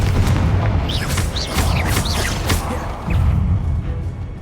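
Confringo fire spell explosions from the video game Hogwarts Legacy: a series of booming blasts with crackling bursts, repeated several times over a dense, continuous game soundscape.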